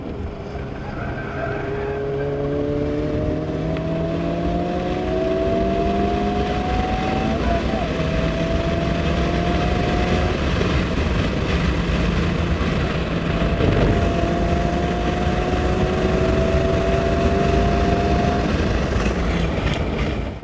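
A Honda Civic Type R FL5 with a turbocharged four-cylinder engine pulls hard, its loud engine note climbing repeatedly in pitch through successive gear changes, sustained and close.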